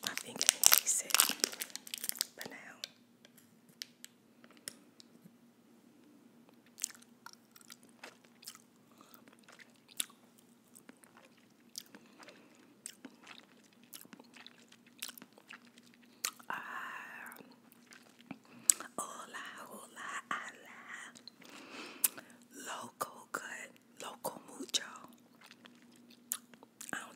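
Skwinklote candy being eaten up close, with soft sticky chewing and mouth sounds and intermittent crinkling of a wrapper, quiet and intimate, interspersed with faint talk and whispering.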